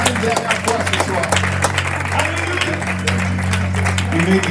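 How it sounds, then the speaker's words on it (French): A church congregation claps in praise, a dense, continuous spread of hands across the room at moderate loudness, with a voice speaking over it partway. "Let's give God one more hand clap of praise."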